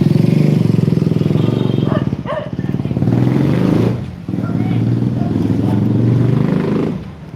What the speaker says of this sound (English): it's hard to talk when the motor interferes, you know, with the sound all the time